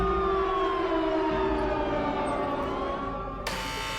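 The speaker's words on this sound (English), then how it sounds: "You stare ahead into the tunnel as the security sirens sound out" Security sirens sounding in a tunnel, a loud sustained wail with a slowly falling pitch, ending in a sudden burst of noise near the end.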